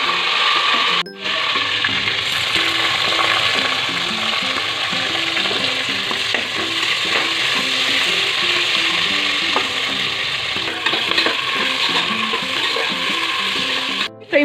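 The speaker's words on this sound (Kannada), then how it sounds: "ಪುದೀನ ಸೊಪ್ಪನ್ನ ಒಗ್ಗರಣೆಗೆ ಹಾಕೊಳ್ಳೋಣ." Mint leaves hiss and crackle in hot tempering oil for a vegetable pulao, with steady close-up sizzling and repeated spoon scrapes and stirs across the pan, plus a couple of brief knocks.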